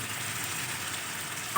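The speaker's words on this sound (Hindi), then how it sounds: "यहाँ पर आलू को फ्राई करते हुए मुझे तकरीबन 2 से 3 मिनट हो चुके हैं।" Potatoes frying in a pan with finely chopped peeled tomato, giving a steady, close, even sizzle with no talking and a small clink near the end.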